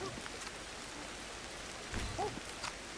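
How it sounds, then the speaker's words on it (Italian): Steady rain falling in the prehistoric jungle of Ancestors: The Humankind Odyssey, a constant soft hiss with faint patter throughout, no talk over it. "qua in questa zona qua abbiamo che piove molto di più rispetto alla zona di prima"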